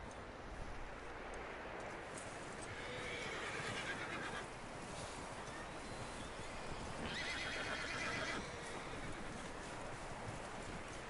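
Horse in the Red Dead Redemption 2 video game whinnying twice, with long high neighs rising over a steady wash of outdoor wind and hoof clatter that fills the whole stretch.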